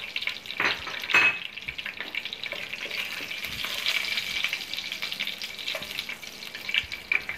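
Whole spices, cinnamon, cloves, cardamom and a few cashews frying in hot oil, a continuous close sizzle with intermittent stirring scrapes and light pan knocks, no talking.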